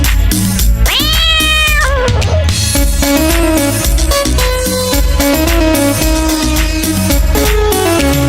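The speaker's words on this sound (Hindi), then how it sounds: "मुझे बिल्ली ने जगाया, बोली म्याऊ म्याऊ म्याऊ" A cat's meow rises out of loud, busy music in a Hindi children's song, one drawn-out call near the start with the backing continuing throughout.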